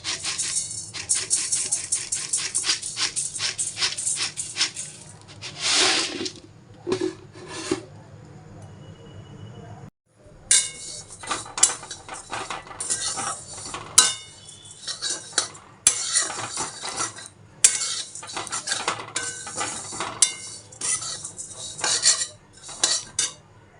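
A metal spatula repeatedly scrapes and rasps against a hot wok while flattened rice is dry-roasted, tossed and stirred, with a faint sizzle and brief pauses between rounds.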